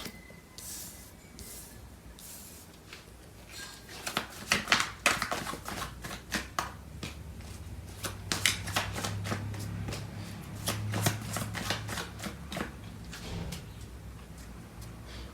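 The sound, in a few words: tarot cards being shuffled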